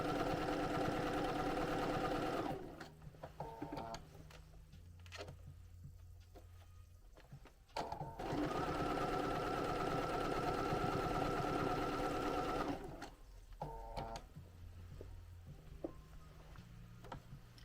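Two bursts of steady, fast stitching from a sewing machine running over a sweatshirt, each several seconds long, with quieter pauses of mechanical handling and fabric shifting between them.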